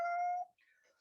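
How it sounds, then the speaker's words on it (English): A pet cat gives a single short, clear meow close by, followed by a faint soft background sound. "That's my kitty."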